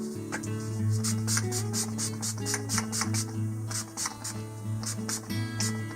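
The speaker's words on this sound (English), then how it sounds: "I'm going to take our all-nighter spray," A series of short bursts of makeup setting spray hiss in a quick rhythm over a steady background hum and music-like drone.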